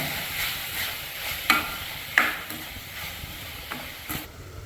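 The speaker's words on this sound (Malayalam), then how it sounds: "ആ സമയം കൊണ്ട് നമ്മളെ മീൻകറി തിളക്കാൻ തുടങ്ങിയിട്ടുണ്ട്" Fish curry in a pot on the stove beginning to boil, giving a soft, steady bubbling hiss with a couple of faint utensil clicks and no talking.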